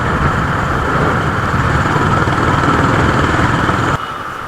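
A Honda CB350 H'ness motorcycle fitted with Powerline headers roars steadily and loudly as it accelerates, a continuous close engine rumble that drops away abruptly near the end.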